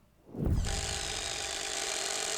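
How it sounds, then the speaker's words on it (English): A Warrior 58523 impact driver from Harbor Freight spins up and bores a self-feed, impact-rated spade bit into a 3-inch pine board, starting with a thump and settling into a steady, loud mechanical grind. "put some impact-rated spade bits in each one of these tools and see how quickly they can drill holes in this 3-inch pine board"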